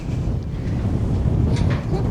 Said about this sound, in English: Very, very windy and blowy up here today.